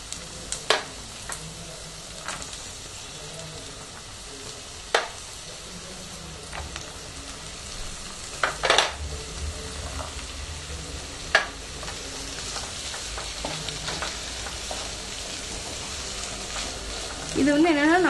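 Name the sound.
mixed vegetables frying and being stirred in a pan for kurma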